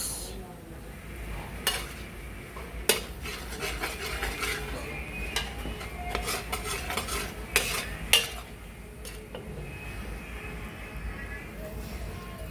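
Garlic and onion sautéing in butter in a pan: a soft, steady sizzle with scraping stirs and several sharp utensil clinks against the pan, and a voice faintly heard at times.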